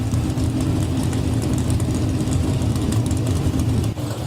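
NHRA drag racing cars sit idling at the staging line, a loud, steady, throaty rumble with constant low pulsing that sags briefly near the end.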